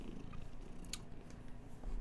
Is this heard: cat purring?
yes